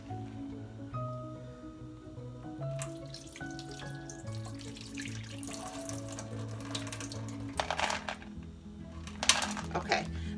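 Water is poured off rinsed pinto beans in a bowl at a kitchen sink, a steady splashing stream with tonal background music underneath, growing louder with sharper splashes near the end.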